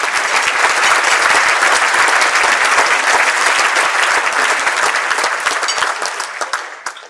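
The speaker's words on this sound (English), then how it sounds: "Let's give them a round of applause." Sustained, loud applause from a banquet audience at an annual membership meeting, dense clapping that holds steady for several seconds before tapering off at the end.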